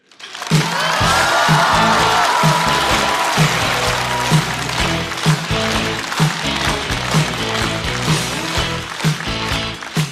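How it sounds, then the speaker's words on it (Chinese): Loud, sustained audience applause fills a comedy club as a stand-up comedian is welcomed onto the stage, with steady dense clapping and a rhythmic beat pulsing underneath. "掌声欢迎步惊云"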